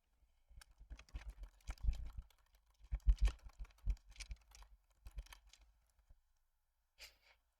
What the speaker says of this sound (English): Sorry for the keyboard clickies.